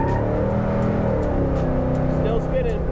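1970 Chevrolet Chevelle with a 454 big block revving hard while the wheels spin, a loud, sustained rumbling engine roar that holds steady at high revs, with excited voices over it.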